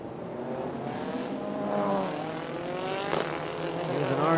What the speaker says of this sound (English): Here's an RX-7 for you.